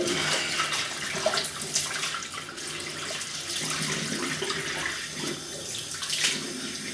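Running water from a tap flows steadily to rinse soap out of a razor, a continuous splashing rush with small fluctuations as the blade is moved under the stream.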